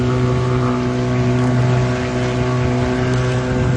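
A steady motorboat engine drones loudly and evenly throughout on the open sea at Sembilang, a constant low hum with wash noise and no voices.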